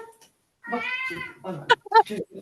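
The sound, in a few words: cat meowing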